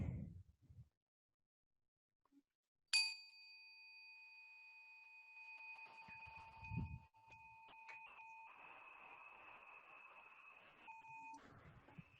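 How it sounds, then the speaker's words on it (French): Mindfulness meditation bell struck once after near silence, a clear close ring holding a pure sustained tone for several seconds as it slowly decays, with faint background noise. "Je vais vous faire écouter un son de la cloche."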